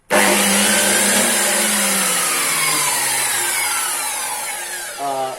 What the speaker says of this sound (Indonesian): mari kita coba hidupin tes mesin dulu